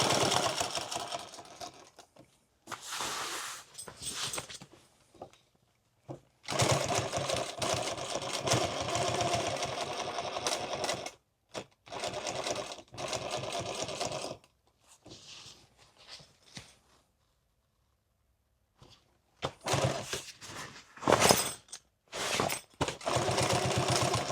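A sewing machine stitches an extra-large tool bag in bursts of steady mechanical whirring, stopping and starting with short quiet gaps between runs; no talking.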